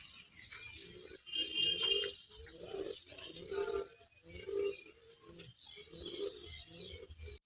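Large Kalshira Kanta Kos pigeons, including a male, coo at a loft in Barasat: a close, repeated series of low throaty coos in regular pulses over a steady background hiss, with a few higher chirps.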